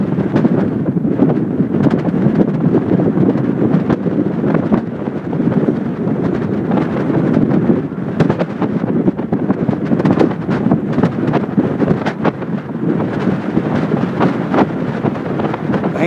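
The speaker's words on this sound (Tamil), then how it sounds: "பயங்கர காத்து" Strong wind roars continuously against the microphone at Sriharikota during a satellite launch visit, a loud, steady rumble with rough gusty bursts and no voices.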